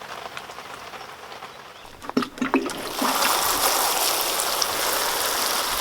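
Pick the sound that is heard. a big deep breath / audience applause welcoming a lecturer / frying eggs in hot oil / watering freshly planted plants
watering freshly planted plants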